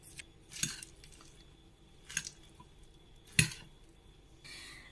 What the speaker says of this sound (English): Now it's time to mix everything together.